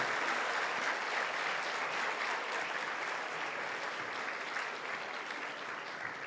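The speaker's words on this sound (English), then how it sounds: "A great round of applause for them." Steady, sustained audience applause fills a conference plenary session hall, a dense wash of many hands clapping at an even level throughout with no voices over it.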